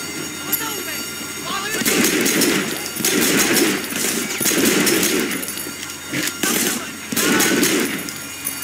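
Sustained gunfire in the Sleeping Dogs video game, a pistol with lights among the weapons, comes in loud, dense bursts one after another over a steady background of noise.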